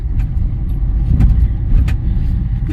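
A Maruti Brezza with an automated manual transmission drives along in second gear, a steady loud low engine and road rumble from inside the cabin with faint clicks and rattles.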